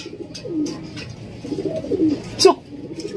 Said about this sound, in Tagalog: Yan, ito na, tatlong kalapati natin iniintay galing sa Villasis, Pangasinan.